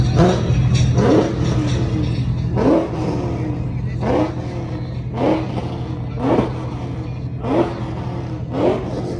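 A muscular Ford Mustang V8 engine revs repeatedly in sharp bursts over a steady idle rumble, loud and close, with faint voices in the background.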